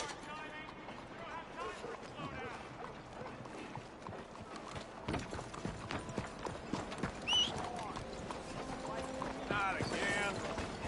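Horse hooves clip-clop steadily in Red Dead Redemption 2 amid a busy town soundscape with mechanical clatter and talk.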